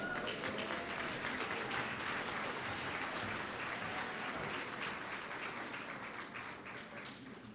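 A luncheon audience at a corporate symposium applauds a General Motors executive: many hands clapping in a continuous, even wash, heard at a distance and fading slightly toward the end.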